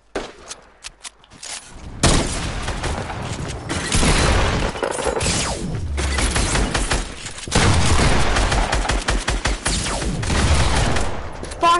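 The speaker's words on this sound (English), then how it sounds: "This is a broken shotgun." Repeated shotgun blasts in a video game, a damaged shotgun firing in loud bursts over a dense, booming battle mix with scattered quieter shots at the start.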